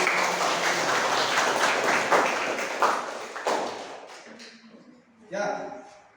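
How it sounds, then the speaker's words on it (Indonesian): Classroom applause during a teacher-training lesson, a few seconds of brisk clapping that thins out, then a voice begins speaking. "Ya, terima kasih, tepuk tangan."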